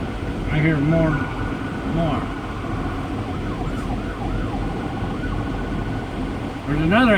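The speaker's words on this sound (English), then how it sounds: "There's another ambulance." A distant ambulance siren wails and rises over steady traffic and engine rumble on an interstate, with people talking in the foreground.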